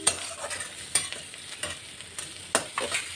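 Onion with chopped ginger frying in a pan, giving a soft, even sizzle under a few sharp scrapes of stirring, heard close with no talk.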